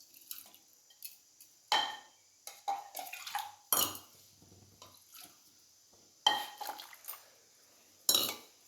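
A spoon scrapes and clinks against a pot while rice payasam is stirred, producing scattered metallic taps and wet scraping strokes at an irregular pace, fairly close and with no talk.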